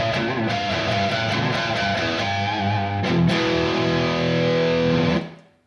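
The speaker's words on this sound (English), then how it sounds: "it's my first video with distortion, so I'll just crank up my Friedman amp" Heavily distorted electric guitar through a cranked Friedman amp plays a loud, sustained riff with rhythmic chugging chords, ringing out and then cut off abruptly at the end.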